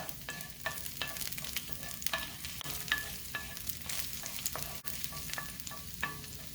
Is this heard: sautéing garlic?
yes